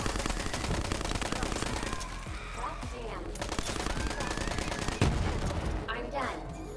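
Rapid bursts of automatic gunfire crackle in the shooter video game Borderlands 3, with repeated volleys and scattered shots running continuously under players talking.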